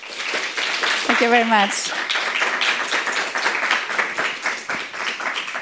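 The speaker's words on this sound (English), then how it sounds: "join me in a very loud applause" Broadband applause-like clatter from an audience at a talk fills the clip under a voice speaking throughout, steady and fairly loud from start to finish.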